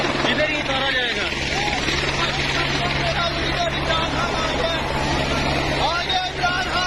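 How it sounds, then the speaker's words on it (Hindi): Helicopter arriving to land at a political rally, a heavy continuous rotor and engine drone throughout, with people talking over the steady roar. "ये हेलीकॉप्टर इधर ही उतारा जाएगा।"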